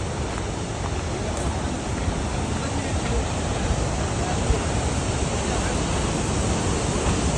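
Kuntala waterfall roars in a steady, loud, unbroken rush of falling water that fills the whole scene without letting up.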